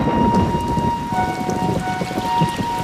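Heavy rain pours down steadily during the rainy season at Copan, with thunder rumbling beneath the dense, close hiss of falling water.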